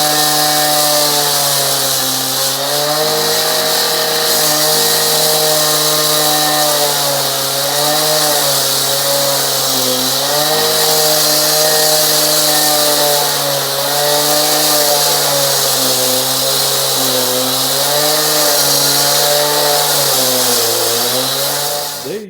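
A loud power saw grinds continuously through concrete, its high whine rising and dipping slightly as the blade bites, with no talking.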